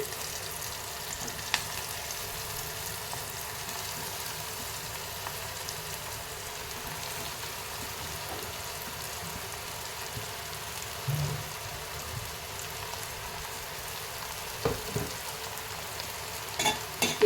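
Grated, washed beetroot frying in oil in a pan, a soft, steady hiss of sizzling with a few faint stirring scrapes and taps scattered through, fairly quiet and with no voices.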